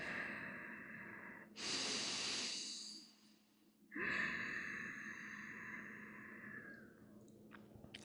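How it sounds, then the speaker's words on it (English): Two long, slow breaths drawn in and out through the nose during a gentle yoga session, close and soft, each a broad airy rush separated by a brief quiet pause. "A few more deep breaths."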